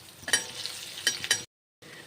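A seasoning mix of urad dal, chana dal, mustard seeds, cumin and dried red chillies fries in hot oil with a soft sizzle. Sharp crackles pop in a few bursts, and the sound cuts out briefly near the end.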